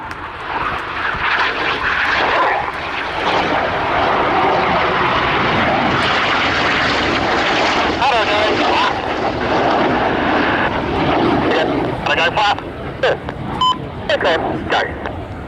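RAF Red Arrows jets perform a flying display at RIAT 2024, their loud, roaring engine noise sweeping continuously overhead with a broad rushing texture, while a commentator talks over it.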